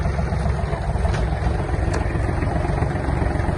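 A Kubota GL-241 mini tractor's small diesel engine runs steadily as the tractor drives, giving a continuous low rumble that stays close and even throughout.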